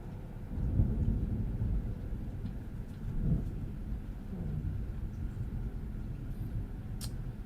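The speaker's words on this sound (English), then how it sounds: "Some people like the sound of thunder." Thunder in the American Truck Simulator video game during a Kansas storm event, a deep continuous rumble with swelling rolls and a steady rain-like wash, no talking.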